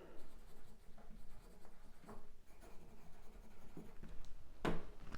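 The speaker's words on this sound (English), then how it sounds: "I'm going to write that down" A pen scratching notes onto paper, a steady run of soft scraping strokes with brief pauses and one sharper scribble near the end, close and quiet.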